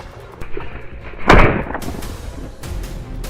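Gunfire at a wild boar hunt: several sharp, loud shots crack out at irregular moments, the heaviest blast in the middle with a short rumbling tail, over a low outdoor background.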